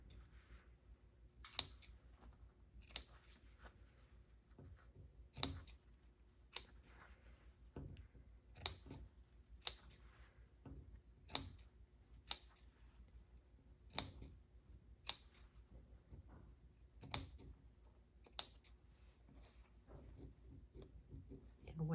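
Quiet, intermittent snips of scissors cutting fabric around curves for a skirt, a dozen or so sharp close cuts spaced irregularly against a faint room background.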